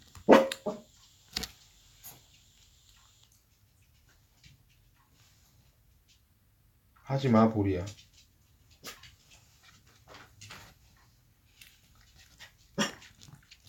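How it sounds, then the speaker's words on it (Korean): Puppies barking indoors during a math lesson: a few sharp barks at the start, one at the end and a louder yelping outburst midway, with someone speaking over and between them. "오늘 강아지들이 많이 저를 힘들게 하네요, 여러분."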